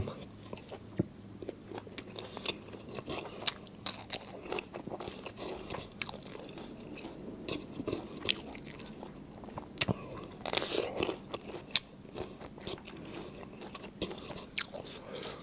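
Someone eating bamboo shoot curry, with scattered crunchy bites and chewing, and soft scrapes like a utensil on a dish, close and irregular with no speech.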